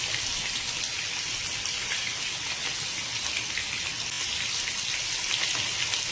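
Small paneer pieces fry to golden brown in a pan for chilli paneer, giving a steady, crackling, rain-like sizzle close by with no voices.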